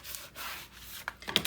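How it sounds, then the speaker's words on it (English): Paper glued onto a scrapbook album is rubbed down with a burnishing tool, giving soft, close, continuous rubbing and scraping strokes, a few sharper scrapes near the end, with no talk. "Now we're going to push this down, and now we're going to burnish."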